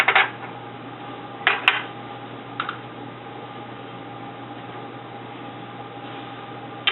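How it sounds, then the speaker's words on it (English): A powder charge thrown with a reloading powder measure: a few short metallic clicks and clacks, close and fairly loud, spaced over several seconds against a steady low hum, with no talking. "I throw a charge with the powder measure"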